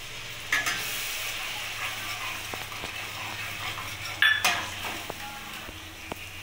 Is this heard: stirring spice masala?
yes